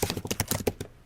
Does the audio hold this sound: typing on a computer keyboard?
yes